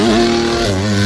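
Honda CRF 250cc dirt bike engine revving hard, a loud, close, steady high-pitched whine that drops and climbs again, alone with no talk.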